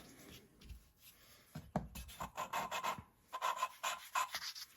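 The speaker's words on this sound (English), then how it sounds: "Lift it up, turn it, back and forth, and you keep doing that until the lapping is done." Engine valves on a Massey Ferguson 35 head with a Continental engine are lapped by hand with lapping compound, a quiet, close gritty rasping in short back-and-forth bursts separated by brief pauses.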